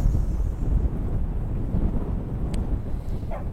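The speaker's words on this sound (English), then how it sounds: "Not as many people out today as there would be if it weren't windy." Wind blowing outdoors on a breezy day, a steady low rumbling roar with gusts buffeting the microphone throughout and no voices.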